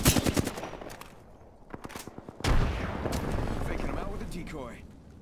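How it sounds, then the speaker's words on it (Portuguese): Gunfire in the video game Apex Legends: rapid bursts of shots early on, then a heavy blast and a sustained loud barrage, with players talking over the action. "Eles estão lá aos tiros contra outros gajos."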